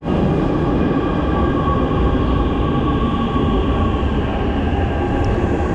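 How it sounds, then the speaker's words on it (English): A metro train arriving at a station rumbles loudly and steadily nearby, a continuous roar of wheels and motors with no voices. "Right now I'm waiting for metro."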